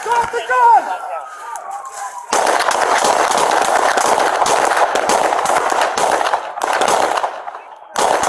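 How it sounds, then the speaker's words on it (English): Rapid gunfire crackles in a dense, continuous barrage during a police shootout at a police station, with shouting voices over the start and brief gaps near the end. "shots fired, shots fired!"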